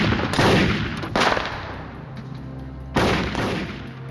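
Gunfire from a bank heist shootout reenactment, with loud, booming shots spaced across a few seconds, each followed by a ringing decay, and no talking.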